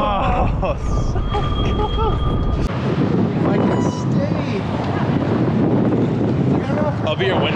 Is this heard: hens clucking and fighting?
no